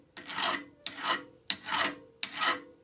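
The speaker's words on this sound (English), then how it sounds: "I'm trying to work this top into a smooth surface, and I'm using one of my files" A coarse metal file rasps across the top of a rusty Stanley rabbet plane in four steady, evenly spaced strokes, close and fairly loud, each with a sharp start and a fading drag.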